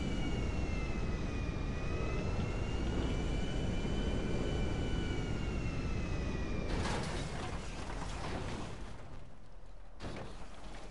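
The Alkonost aircraft in GTA V, its engines giving a steady, loud jet roar with a whining drone that shifts slightly, then a rougher, broken rumble later on.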